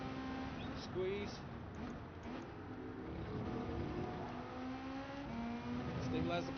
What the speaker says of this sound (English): Using the throttle to push the car around.